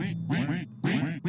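Ducks quack in the Unity puzzle game Ducksellate, with three close, loud, nasal quacking bursts in quick succession and short gaps between them. No one speaks.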